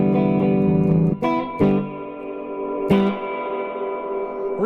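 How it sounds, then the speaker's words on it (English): Electric guitar played through a custom Hiwatt 40 amplifier with reverb, sustained chords ringing with a few sharp strums and a lingering reverb tail, loud and close with no talking. "Reverb ain't too bad."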